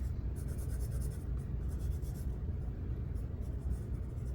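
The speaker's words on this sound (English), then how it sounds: "So I'm working in pencil and ink on this." Pencil scratching steadily across paper while drawing a manga page in pencil and ink, a close, continuous gritty rasp with soft strokes layered over a low background rumble.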